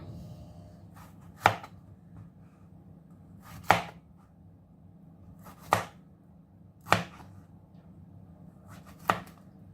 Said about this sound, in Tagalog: Slice lang natin siya guys